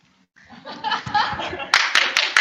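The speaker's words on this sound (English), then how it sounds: "Applause, applause for unpaid work." Audience applause at a Toastmasters speech event broadcast, starting from near silence and building into mixed clapping with chuckles and some voices, then sharper, louder claps toward the end.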